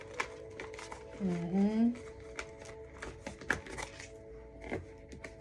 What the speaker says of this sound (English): I hate shuffling on top of other cards